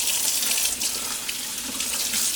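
Pretty hot water runs steadily from a faucet into a sink drain while a Samsung dishwasher filter is cleaned, a close, continuous splashing stream with no talk.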